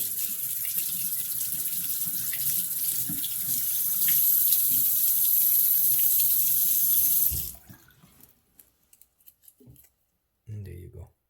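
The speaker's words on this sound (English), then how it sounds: "Give it a rinse." Running tap water splashes over teeth aligners for several seconds, a steady close hiss that stops abruptly, followed by a few faint handling sounds and a brief clatter.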